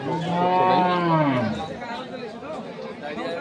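A dairy cow lets out a loud, close moo that slides downward at a cattle market, followed by faint chatter of people nearby.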